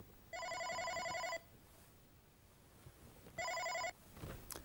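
An OpenStage 60 SIP desk phone rings with an incoming call. Two bursts of electronic trilling tones come about two seconds apart, clear and close in a quiet room with no voices.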